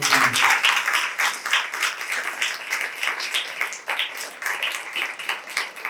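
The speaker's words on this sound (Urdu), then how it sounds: "آمین، ہاللویا، زوردار تالیاں بجاؤ" A church congregation claps loudly and steadily, dense rapid hand claps filling the room with no pause, close and sustained throughout.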